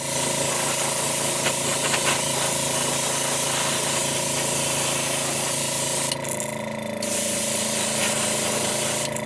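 Airbrush spraying Createx Opaque White paint as a base coat on a crawfish-style fishing lure, a close, loud, steady hiss running almost without break, with a short dip in the spray near the end.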